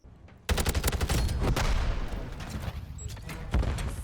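Rapid automatic gunfire in the video game Modern Warfare 3, a loud close burst of dense rattling shots that tapers off, followed by another sharp shot near the end.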